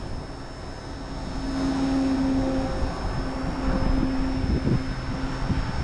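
An XK K110s collective pitch micro helicopter flies outdoors on a windy day. A thin, steady motor whine hums at moderate distance and swells slightly midway, with wind noise underneath and no talking.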